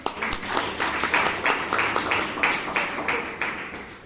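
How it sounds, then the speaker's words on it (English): A small audience at a Toastmasters meeting claps in a round of applause, with distinct, fairly regular claps that stand out individually rather than forming a dense roar, at moderate loudness. "Can we have a round of applause?"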